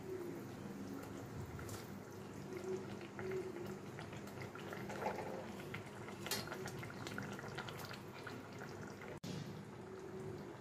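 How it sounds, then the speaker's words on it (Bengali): Fish curry gravy simmering with fried fish in a pan: a faint, continuous bubbling and hiss with soft scattered pops, one brief sharp click near the end, quiet and close. "এবার ঝোলটাকে মাছের সঙ্গে একটু ফুটতে দেব।"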